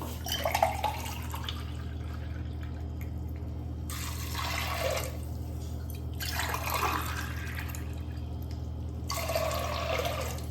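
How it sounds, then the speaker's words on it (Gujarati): Water poured into a pressure cooker holding peas to boil them for ragda patties, coming in several separate splashing pours with brief pauses between, close and fairly loud over a steady low hum, no talking. "ત્યારબાદ હવે આપણે વટાણા બાફવા માટે એમાં પાણી એડ કરી લઈશું."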